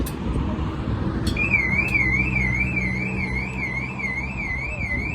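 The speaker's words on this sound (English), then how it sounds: "And an alarm just went off." A car alarm near a pair of BMW E92 M3s starts with a few chirps, then settles into a steady, warbling electronic siren that rises and falls, heard from a short distance over a constant low hum.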